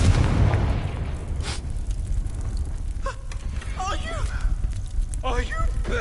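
In the Hogwarts Legacy video game, a Confringo fire spell bursts with a loud, close, rumbling blast at the start. The sound fades into crackling noise, and voices talk over the tail end.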